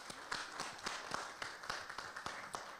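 Audience at an entertainment panel clapping, a fairly thin, uneven patter of individual claps heard at a moderate distance, the rhythm rising and falling without a full roar.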